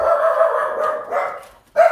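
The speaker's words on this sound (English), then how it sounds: "And dog barking." A dog barks and whines close by, a sustained yowling bark followed after a short gap by another sharp bark.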